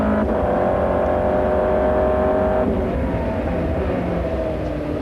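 Race cars from the 2005 American Le Mans Series roar continuously at close range, a dense engine drone with shifting harmonic tones as several cars run through a downhill bend, a gear change audible midway.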